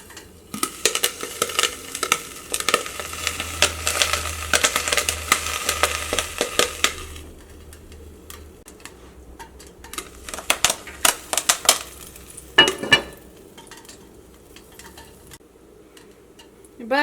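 Caramel popcorn kernels pop in a covered pan, a dense crackling burst at first with stirring, then thinning to scattered sharp single pops.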